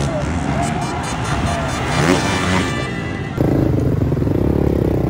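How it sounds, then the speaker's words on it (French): Motocross motorcycles at the Motocross des Nations, Matterley Basin, roaring past the last corner close to the trackside, engines snarling under a commentator's voice and crowd babble. "Team Geiger qui passe dans le dernier virage."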